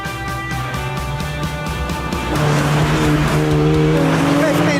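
A £1,500 performance car is driven hard along a twisty Welsh B road over Gospel Pass, its engine revving loudly near the microphone while tyres squeal, and a voice runs beneath it.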